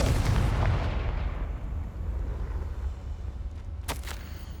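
A Confringo fire spell from Hogwarts Legacy bursts as a loud, booming blast that decays into a long rumbling roar, with a sharp crackling pop near the end.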